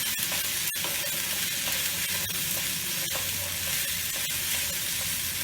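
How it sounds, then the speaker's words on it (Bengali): Cumin powder fries in a pan while cooking egg lababdar, giving a loud continuous sizzle with occasional sharp ticks and pops throughout. "জিরে গুঁড়ো দিয়ে একটু ভাজা ভাজা হবে,"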